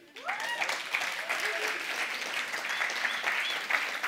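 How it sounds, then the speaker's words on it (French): Audience applause breaks out after a brief quiet start and holds steady, dense clapping with scattered cheers and whoops over it, fairly close and loud throughout. "Viens, mon grand, on peut l'applaudir."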